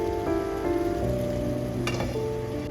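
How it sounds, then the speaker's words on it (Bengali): Masala paste cooking slowly over a low flame gives a continuous dense sizzle and bubbling, with one short scrape partway through, steady and close with no voices. "এবার এটাকে ভালো করে ভেজে নেব আর দু থেকে তিন মিনিট লো ফ্লেমে এটাকে একটু কষাবো"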